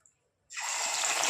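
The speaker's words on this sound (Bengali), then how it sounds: "তেল গরম হয়ে গেছে এবার আমি এক এক করে মাছের ডিমগুলো ভেজে নেবো" Fish roe fritters dropped into hot oil break into a sudden broad sizzle after a half-second of silence, a steady close frying hiss that holds to the end.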